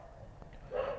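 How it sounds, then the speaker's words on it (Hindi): Dogs barking somewhere in the background, faint and brief, heard indoors. "पीछे कुत्ते भौंक रहे, पढ़ाने भी नहीं देते ध्यान ढंग से।"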